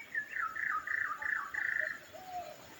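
A white-rumped shama in a Sri Lankan bush setting gives a series of clear, warbling whistled phrases, fairly close and loud against a soft hum of insects, with no talking.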